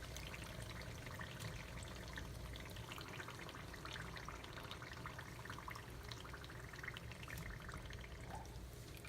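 Filipino lumpia deep-frying in hot oil give off a faint, even hiss with fine crackle, steady and unbroken throughout.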